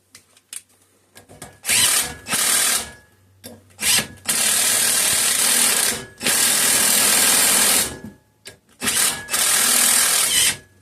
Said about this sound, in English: See if I can get these bolts to push this plate off.